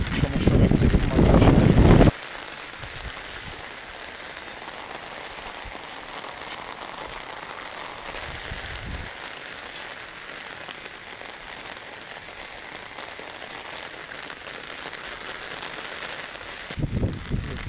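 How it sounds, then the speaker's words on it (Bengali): Monsoon rain falls steadily during a cyclone, a constant hiss of drops on surfaces that swells louder at the start and end, with a brief gust of wind midway. "দেখা যাচ্ছে, বৃষ্টি কিন্তু"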